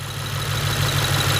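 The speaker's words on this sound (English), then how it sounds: "So the engine sounds completely different now. The misfire went away." A car engine, its earlier misfire now cured, idles steadily and smoothly, a low even hum with no stumbling, close by and alone.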